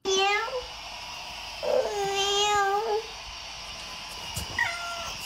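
A voice imitates a cat, giving a few high, wavering meows: two drawn-out calls in the first three seconds and a shorter one near the end, each clear and close over faint room noise.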